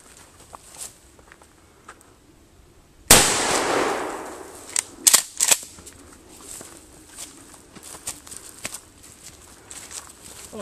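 A single loud blast from a Remington 870 12-gauge shotgun firing double-aught buckshot into a computer monitor, a sharp close crack with a long decaying tail, followed by a few smaller clattering impacts and faint outdoor rustle.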